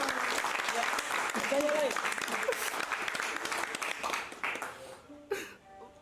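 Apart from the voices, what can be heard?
applause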